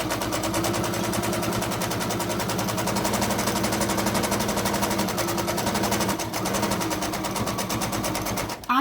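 A sewing machine stitches down the tab of a plastic bag holder, running fast in one steady, loud, continuous rattling whir that stops just at the end.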